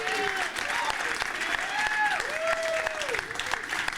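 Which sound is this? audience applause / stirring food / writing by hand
audience applause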